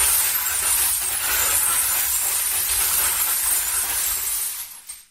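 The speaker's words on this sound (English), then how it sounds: "you turn one crank basically to get the glass kind of moving around per bottle breaking" A crank-driven glass-breaking sound effect instrument churns out a continuous, loud rattling crash of shattering glass that holds steady for several seconds before cutting off abruptly.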